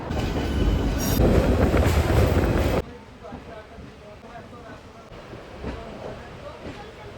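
Loud rumble of a Sealdah–Jalpaiguri Road passenger train running on rails, then a sudden drop to a quieter interior hum with faint rattles and clicks.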